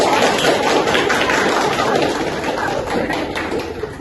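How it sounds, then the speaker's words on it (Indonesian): A classroom applauds a student's answer, a dense, continuous wash of clapping that stays fairly loud and even throughout. "Bagus, tepuk tangan."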